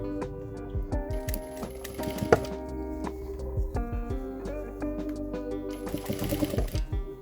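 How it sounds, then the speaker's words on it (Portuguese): A sewing machine stitches a half-moon cosmetic bag in short bursts of rapid mechanical clatter, starting and stopping several times at close range, with no one talking. "você tem que se atentar para parar a costura junto com a costura que você já tinha marcado"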